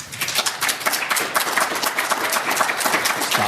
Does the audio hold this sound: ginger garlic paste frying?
no